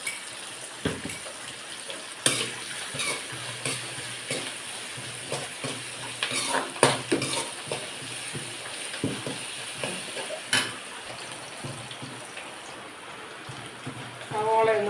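Soft sizzling of ginger-garlic paste frying in a pan with occasional scraping and clinks of a utensil, a voice speaking intermittently over it.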